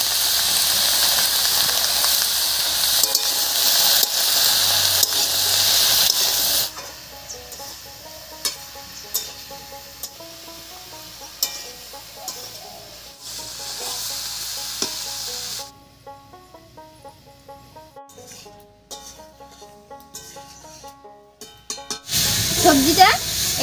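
Vegetables with salt and turmeric sizzling and frying in a pan for vegetable khichuri, with steady hiss and intermittent stirring scrapes, loud at first then quieter, with clinks and a burst of louder sizzle at the end.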